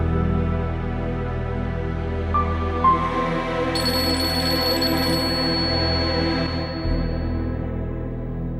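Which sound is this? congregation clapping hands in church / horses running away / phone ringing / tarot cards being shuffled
phone ringing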